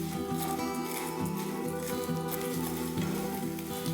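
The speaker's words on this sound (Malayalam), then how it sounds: "ഉണക്കച്ചെമ്മീൻ ഒന്ന് വറുത്തെടുക്കണം" Dried shrimp roasting in hot coconut oil in a pan, a steady low sizzle and crackle with a faint background hum, continuous and close.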